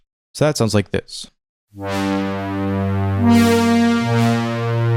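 Juno synthesizer stab patch with modulated filter, a sustained chord with shifting tone and a brief swell, played alone after a short spoken line.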